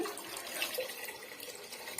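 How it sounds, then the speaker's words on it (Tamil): Water poured into Andhra pappu dal while cooking, a soft steady splashing trickle at low volume, close and continuous. "இப்போ வந்து நான் கொஞ்சமா தண்ணி சேர்த்துக்கிறேன்"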